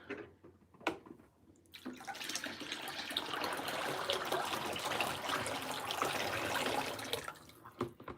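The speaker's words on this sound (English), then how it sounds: "to strain my lye water." Lye water being poured through a strainer into a large bowl for turmeric and honey soap, a quiet, continuous trickling stream lasting several seconds between brief handling clicks.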